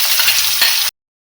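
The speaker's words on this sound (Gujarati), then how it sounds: "ડુંગળીને 2 થી 3 મિનિટ માટે શેકાવા દઈશું" Chopped medium-sized onions with curry leaves and chili pieces fry in a pan, giving a dense, close hiss and crackle for under a second before cutting to silence.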